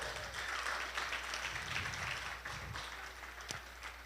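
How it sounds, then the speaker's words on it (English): Audience applause at a community event, a steady wash of many hands clapping at moderate distance, fairly quiet and continuous with no talking. "Give them another big round of applause."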